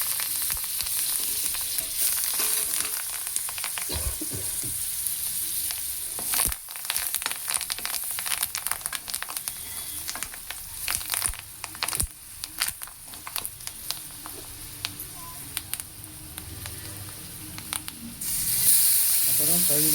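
Curry leaves crackle in hot oil, with dried anchovies to follow, giving a loud, close, continuous frying hiss broken by pops and stirring scrapes, and a brief louder burst near the end.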